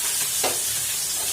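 Fish frying in a pan, a short continuous sizzling hiss with one brief louder crackle.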